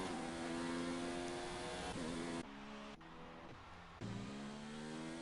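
A Williams race car engine in a racing video game holds a steady high whine, with a couple of sharp shifts in pitch and a brief dip as it works through a corner, loud and continuous.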